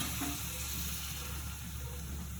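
Potato curry simmering in a pan after water is added gives a steady soft sizzle with faint stirring scrapes, close and fairly quiet.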